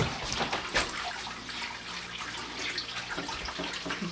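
Running water pours over a Samoyed dog during a grooming bath, a soft, steady splashing hiss heard up close but at low volume, with a few small spatters and no speech.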